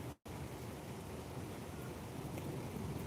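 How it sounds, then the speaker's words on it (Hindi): Heavy rain pours steadily over Kolkata, a dense, even hiss that holds at moderate level after a brief dropout at the start, with no voices. "देखिए कोलकाता का वेदर पूरा पानी पानी हो गया है।"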